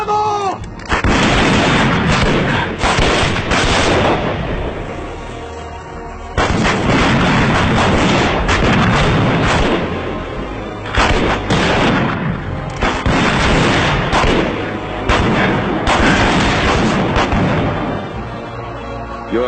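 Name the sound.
gunfire from soldiers in Peter Pan action movie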